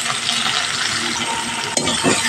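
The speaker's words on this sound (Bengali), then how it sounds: "মাছ ভেজে যে তেলটা ছিল সেই তেলেই এখানে কুচনো পেঁয়াজ আর লঙ্কাটা আমি দিয়ে দেবো" Chopped onion and green chilli fry in oil left over from frying fish, a close, steady sizzle with a sharp metallic clink of a utensil near the end.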